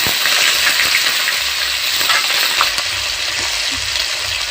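Dried chillies, green chillies and onion frying in oil in a pan, a dense, steady sizzle and crackle that stays loud and close throughout, with occasional faint clinks.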